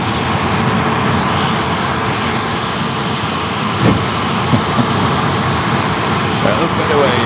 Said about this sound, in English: I got a plane. Wants to come into the gate.